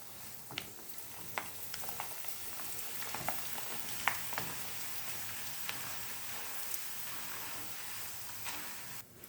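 Corn flakes frying in a pan make a steady, soft crackling sizzle with occasional sharper pops, close and continuous throughout.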